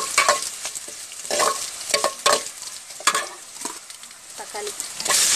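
Crushed garlic fries in hot oil while a spoon scrapes and stirs the pan repeatedly, with a close, bright sizzle running throughout.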